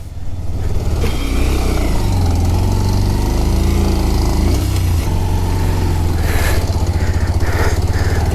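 A 125cc motorcycle engine drones loudly and steadily up close on a monsoon ride, its pitch shifting as it revs and pulls along.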